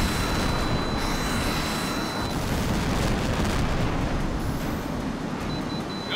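Explosions from missile hits on targets in the HAWX flight combat video game, a loud continuous roaring rumble with jet engine noise layered through it and no pause.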